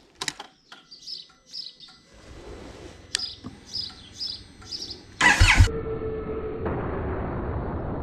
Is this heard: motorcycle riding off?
yes